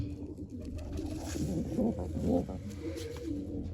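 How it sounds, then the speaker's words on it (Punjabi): Low, repeated cooing from a pigeon kept in a loft, soft and close, swelling in the middle with faint chirps above a steady background hum. "ਇਹ ਆਪਣਾ ਵੱਜਦਾ ਬਗਲ ਡੂਸੇ ਵਾਲਾ ਕਬੂਤਰ"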